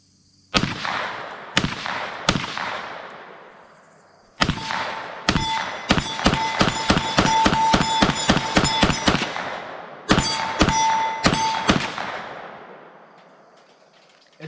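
Ruger PC Carbine fired at an outdoor range, loud sharp reports: a few spaced single shots, then a quick string of rapid fire, a pause, and another burst, each crack ringing with a metallic ping and echo.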